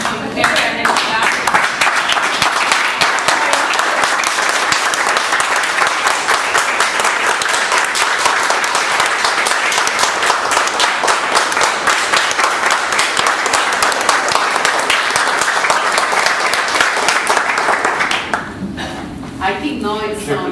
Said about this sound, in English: Can we stand up and clap for 2 minutes?